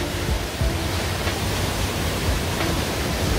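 Jaein Waterfall pours into its pool in a sunken gorge lined with columnar basalt, a dense, steady broadband roar of falling water heard nearby without any voices.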